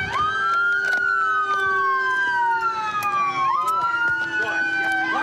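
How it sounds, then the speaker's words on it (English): A police car siren wailing loud and close, sweeping steadily up and down in pitch, with voices talking over it. "cut that siren"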